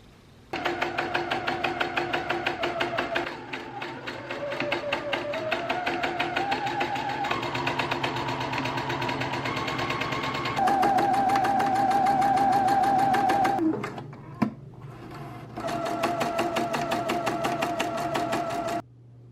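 A sewing machine stitching quilt strips together for a beginner quilt, a steady rapid mechanical whir with a rising hum that holds, stops briefly near the end, then resumes, loud and close with no talk.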